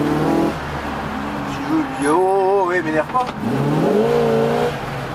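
Porsche engine revving in short bursts nearby, pitch rising and falling through several blips, with people talking over and between the revs.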